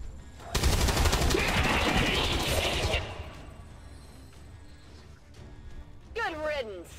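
Automatic gunfire from a squad soldier in the XCOM 2 strategy game, a dense loud burst of rapid shots lasting about two and a half seconds, then fading to quieter game ambience before a brief voice near the end.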